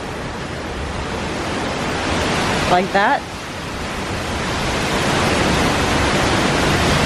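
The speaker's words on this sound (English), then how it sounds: "The gusts are getting pretty intense and a little more frequent." Strong gusting wind during Hurricane Ian near Tampa, a continuous loud broadband roar that swells slightly toward the end, with a person briefly talking partway through.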